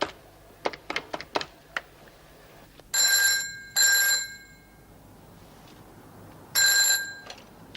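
A phone number is dialed with several quick clicks, then a telephone rings out in three loud bell bursts with pauses between, heard close and clear in a quiet room.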